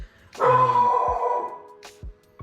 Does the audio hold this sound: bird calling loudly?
no